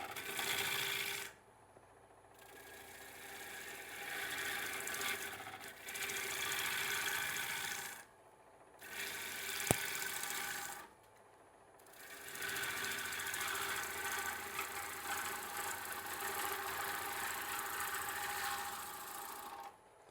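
A wood lathe rough-turns a bowl blank, the gouge removing bark in long scraping cutting passes separated by brief pauses, steady and fairly close.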